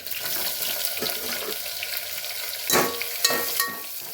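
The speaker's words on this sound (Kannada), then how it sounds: "ಗೋಲ್ಡನ್ ಬ್ರೌನ್ ಬರೋವರೆಗೂ ಈರುಳ್ಳಿನ ಫ್ರೈ ಮಾಡ್ಕೋಬೇಕು" Onions frying in oil in a pan give a steady close sizzle, broken by a few louder scraping stir strokes near the end, without speech.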